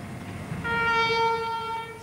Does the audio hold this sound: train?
yes